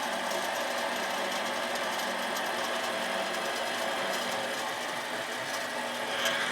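A metal lathe running steadily while cutting threads, a continuous mechanical whir with faint rhythmic chatter throughout, close and alone with no talk.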